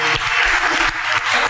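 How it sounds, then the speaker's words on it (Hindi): Studio audience of a talk show applauding, a dense continuous wash of many hands clapping at once, loud and close throughout with no voices heard. "उसके बावजूद इतनी अच्छी तालियां"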